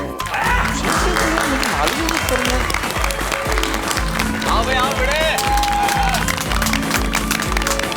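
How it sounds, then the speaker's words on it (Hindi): A crowd of society residents claps loudly and steadily to welcome the housing society secretary, a dense, continuous wash of applause running the whole time, with voices calling out over it. "तो सोसाइटी के सेक्रेटरी का जोरदार तालियों से स्वागत कीजिए।"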